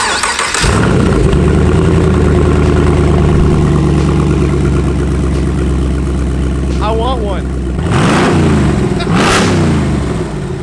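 A truck engine runs on a three-wire wiring harness jig, starting and settling into a loud, steady idle before revving up twice, with people talking nearby.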